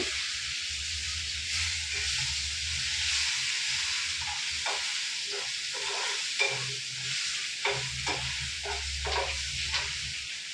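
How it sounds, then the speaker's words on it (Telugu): Curry leaves crackle and sizzle in hot oil for a raw mango pulihora tempering, a loud hissing bed broken by sharp pops and spatters, close by and without speech. "ఇప్పుడు కొంచెం కరివేపాకు యాడ్ చేసుకుందాం"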